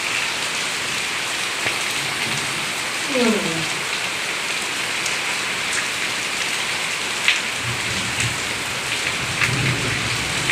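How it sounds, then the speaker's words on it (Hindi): Steady, dense hiss of heavy rain pouring down, with a low rumble of distant thunder partway through. "देखिए कैसी बारिश हो रही है"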